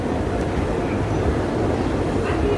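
A Howrah to Digha passenger train running, heard from on board as a steady low rumble with faint rattling, continuous and moderately loud.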